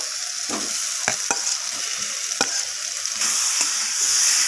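Fried potatoes and pointed gourd sautéing with spices in a pan, a loud continuous sizzle that swells near the end, punctuated by a few sharp utensil knocks and scrapes.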